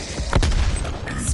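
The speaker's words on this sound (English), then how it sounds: "Throwing grenade." A thrown grenade in Call of Duty Cold War Zombies goes off as a single fairly faint, sharp burst with a short rumbling tail, set against quiet game ambience.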